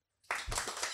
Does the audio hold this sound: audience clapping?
yes